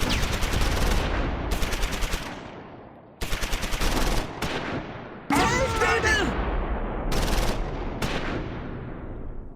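Rapid bursts of gunfire and mortar fire in the Close Combat 4 Battle of the Bulge game, with a US 60mm mortar shelling a German mortar half-track. Several loud clusters of shots and blasts come in quick succession with short gaps.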